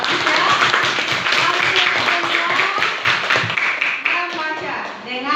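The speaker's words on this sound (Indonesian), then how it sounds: "Oke, tepuk tangan dulu." Fourth-grade classroom pupils clap their hands together, a brisk burst of many small hands tapping at once, with children's voices chattering over and between the claps.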